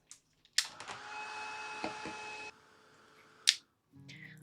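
An electric drying tool blows over wet paint on a gesso-scraped art piece. A click switches it on, it whirs steadily for about two seconds, then quiets, and another sharp click follows.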